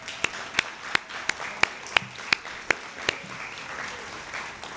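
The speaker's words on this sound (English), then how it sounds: "Let's give them a round of applause" At a 2024 city council debate, the audience applauds the candidates, but only about ten sharp, evenly spaced claps stand out, steady and fairly faint in a quiet room.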